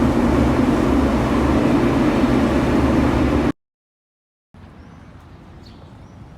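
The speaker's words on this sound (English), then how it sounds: "on the train now, as you can see." Loud, rumbling metro train noise roars for a few seconds, then cuts to silence before a quieter, steady hum of the carriage returns.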